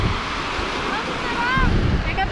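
Ocean surf and gusty wind buffet the microphone at a Nova Scotia beach, a steady broadband rush with a few faint tonal whistles drifting in near the end.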